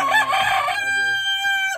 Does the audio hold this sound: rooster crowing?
yes